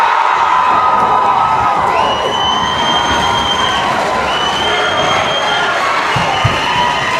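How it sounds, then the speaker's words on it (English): Home crowd at a boys' varsity high school basketball game in Dressel Gym roars with sustained cheering and shouting, a loud, continuous wash of voices with a few shrill whoops rising above it. "And now the crowd is really into it here at Dressel Gym"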